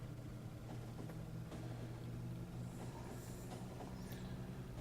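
Iron ore trains run in the video game Factorio, producing a steady rolling rumble with clattering wheel sounds and occasional high squeals, continuous and fairly loud throughout with no talking.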